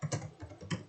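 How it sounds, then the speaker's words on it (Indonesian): Quick keystrokes on a computer keyboard while writing a JavaScript do-while script, a short close run of uneven clicks with no talk. "Oke, kita ketik script"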